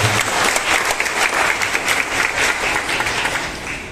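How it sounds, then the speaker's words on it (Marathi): An audience applauds at a women's achievement award ceremony in Maharashtra, a dense, continuous roar of many hands clapping that holds steady for several seconds and then begins to taper off. "आपण सगळ्यांनी आपल्यासाठी जोरदार टाळ्या वाजवाव्या."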